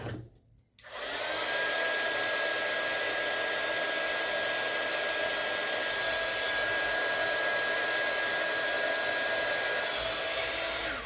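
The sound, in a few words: heat embossing gun blowing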